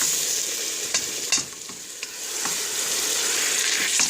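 Chicken frying in a pan with a large onion just added, giving a steady, close sizzle broken by a few sharp stirring scrapes and clicks.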